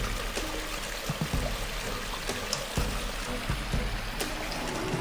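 Cold spring water in the Apuseni mountains flowing and trickling steadily, close by, with small splashes and drips scattered over the continuous burble.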